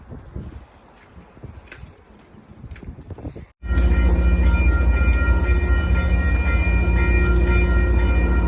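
A train stands at a station platform with no boarding steps, its loud, steady engine or motor rumble starting abruptly partway through and continuing evenly after a quieter stretch of ambient platform noise.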